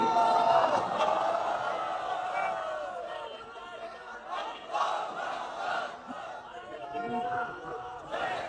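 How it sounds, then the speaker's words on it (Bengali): A crowd shouting together at a religious sermon gathering, a dense roar of many voices that swells and falls in waves, loud and reverberant with overlapping cries throughout. "কই মুরব্বী উঠেন তো লিল্লাহে তাকবীর"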